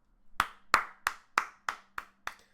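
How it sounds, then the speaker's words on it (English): Slow, deliberate hand claps given as sarcastic applause, seven sharp claps spaced evenly about a third of a second apart, close and isolated with no talking. "That's the type of sarcastic applause you get that a referee gets"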